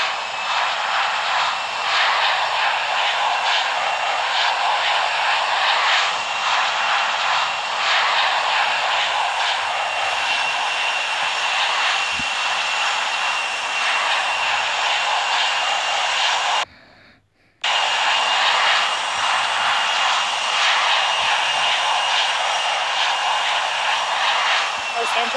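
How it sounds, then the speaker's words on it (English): Air Force One takes off in the Infinite Flight game, a loud, steady roar of jet engines holding nearly constant and cutting out briefly about two thirds of the way through. "Air Force One is taking off runway 25 right"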